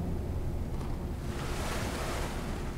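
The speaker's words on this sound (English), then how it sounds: "sea sound" Sea waves wash steadily onto the shore of an island in Animal Crossing, a continuous near surf roar with a breezy hiss, heard alone throughout.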